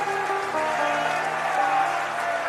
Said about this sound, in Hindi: धन्यवाद दीजिए ताली बजाकर।